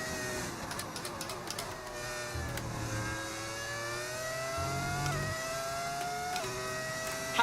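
F1 racing cars in the F1 25 video game, a high whining engine note climbing and shifting through gears, steady and fairly close, with a lower engine drone joining in midway.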